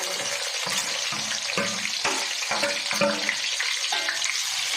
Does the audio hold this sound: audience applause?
no